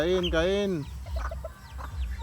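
Rhode Island Red and Hubbard chickens cluck and call close by in a backyard farm, with a loud drawn-out squawk at first, then quieter scattered clucks and chirps.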